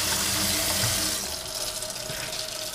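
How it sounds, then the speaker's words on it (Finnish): Tap water runs steadily into a bowl for a pet, a close, constant splashing gush that softens slightly partway through, with no voices. "Vettä laitetaan kaverille"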